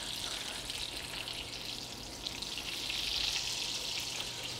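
Leeks fry in a pan, giving a steady, close sizzle that hisses continuously and swells slightly toward the end, with no one talking.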